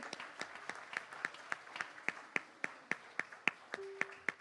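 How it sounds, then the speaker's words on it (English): Slow, evenly spaced hand claps, sparse and close, sound in a steady beat of about four per second at a Sunday service of the East Bay Church of Religious Science, with a faint tone near the end. "Can we give a round of applause to our practitioners?"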